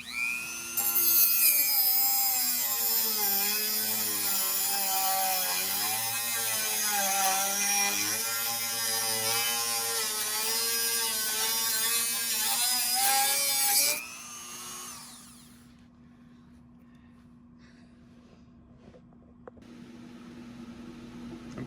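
A Dremel rotary tool shaving down brake shoes gives a loud, high-pitched grinding whine whose pitch wavers with the load for about fourteen seconds, then cuts off, leaving a quiet room hum.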